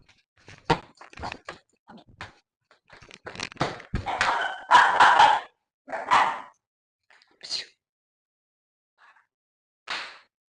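A pet dog barks and yelps indoors during an evening at home, sharp close barks in uneven bursts with pauses, alongside someone speaking softly.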